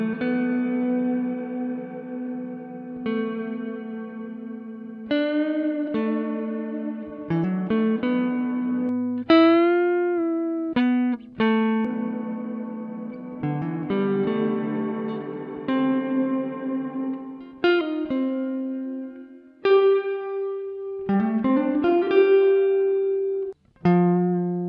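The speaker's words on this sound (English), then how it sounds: "Cherry Audio Galactic Reverb is an algorithmic style reverb plugin" Algorithmic reverb from the Cherry Audio Galactic Reverb plugin on a melodic synth line, bright notes and gliding tones trailing into long echoing tails with no voices.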